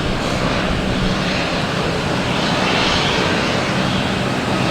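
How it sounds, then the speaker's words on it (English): Aer Lingus Airbus A321neo jet departing Boston Logan, its engines a loud, steady broadband roar held close throughout with no voices over it. "We have Aer Lingus and A321neo heading back to Shannon."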